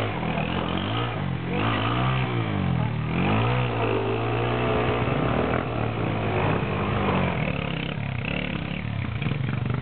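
Motorcycle engines rev hard and close, with pitch sweeping up and down in repeated throttle bursts over a constant loud mechanical roar.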